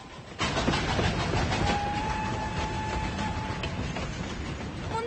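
A train rumbles along a mountain railway, a steady rolling roar with faint clatter and a sustained tonal whine, continuous and fairly close, no voices.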